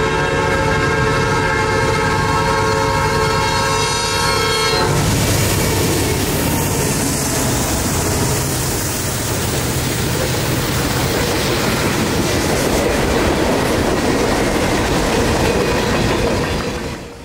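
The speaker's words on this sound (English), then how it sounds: "the only warning of its presence coming from the sound of a classic Nathan P5 blaring across the" A Norfolk Southern manifest freight train passes through city streets, its classic Nathan P5 horn blaring loud and steady for several seconds before giving way to the sustained rumble and clatter of the train rolling by up close.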